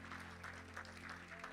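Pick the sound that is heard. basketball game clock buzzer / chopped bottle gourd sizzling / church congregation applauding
church congregation applauding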